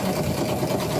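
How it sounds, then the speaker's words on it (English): A sewing machine zigzag stitching across the bottom hem of an upcycled denim jumper, locking patchwork seams, with a steady close whirring motor hum throughout. "now I'm zigzagging all of the bottom across so that I can lock all of my seams in here"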